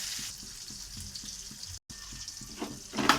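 Water is poured into a pan of fish curry where potatoes and papaya will boil, making a bright splashing rush near the end. Before that come soft rhythmic stirring taps and a light sizzle.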